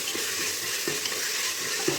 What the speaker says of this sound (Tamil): இப்போ இது நல்லா ஃப்ரை பண்ணிக்கலாம்.